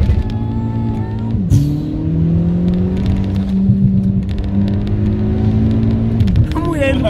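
A Volkswagen Jetta's engine revs and accelerates close by, a steady loud drone whose pitch rises and shifts, with brief voices and background commotion.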